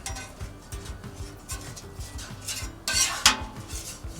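A metal spatula scrapes and rubs vegetable oil across a Weber Slate griddle in quick repeated strokes, close and fairly quiet, with a couple of brighter scraping clatters near the end and no talking.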